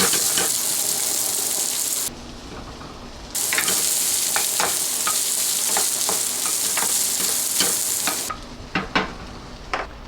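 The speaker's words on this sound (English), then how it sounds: "When it gets nice and hot, I'll add the onions" Diced onions fry in hot extra virgin olive oil, a loud continuous sizzle close by with scattered stirring clicks and scrapes. The sizzle briefly thins twice.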